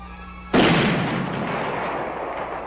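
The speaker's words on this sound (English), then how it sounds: "Fire the signal cannon!" A single loud signal cannon blast booms aboard a ship suddenly after a brief quiet hum, then its roar slowly fades away.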